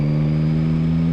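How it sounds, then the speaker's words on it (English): A 2022 Yamaha MT-09 triple engine holds a steady, loud, buzzing induction note with a strong low hum, brief and continuous without clear rev changes. "you don't even have to really push it to get a lovely induction noise from it"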